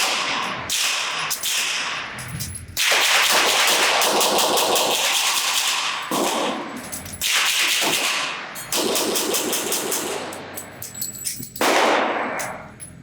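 Rapid handgun shots from an early West German Sig Sauer P220 .45 ACP pistol at a firing range, loud sharp reports fired in quick bursts separated by a short pause for a magazine change.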